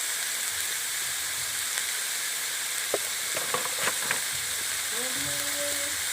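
Turmeric powder dropped into hot oil for an aloo dum, with a steady sizzling fry hiss throughout and a few soft clinks and stirring taps near the middle, plus faint tonal whistles toward the end.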